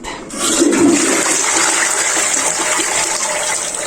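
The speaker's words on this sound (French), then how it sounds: "je vais tirer ma chasse d'eau" A household toilet flushing, a loud sustained gush and rush of water that starts abruptly after a brief pause and continues steadily, close by and with no one talking.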